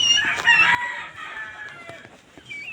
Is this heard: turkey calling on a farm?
yes